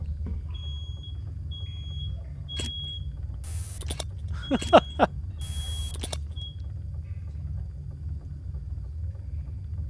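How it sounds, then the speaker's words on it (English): A household smoke alarm set off by cooking sounds as a few short, thin, high beeps spaced apart, mixed with brief bursts of noise and clatter over a quiet room hum. "she set off the alarm again"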